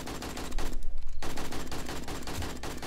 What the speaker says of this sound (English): What are you shooting?